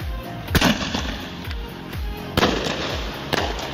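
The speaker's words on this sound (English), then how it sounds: "This was a manly firework." Consumer fireworks cake blasting off outdoors, a rapid series of loud booming bursts and crackling pops spaced roughly half a second apart, close and powerful with no talking.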